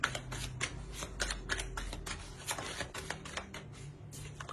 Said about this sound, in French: Je vais rajouter une carte sur le 9 d'épée.